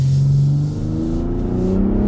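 A Ford Raptor truck at full throttle, its engine roaring steadily with a strong low rumble that climbs in pitch as it pulls hard, loud and close throughout.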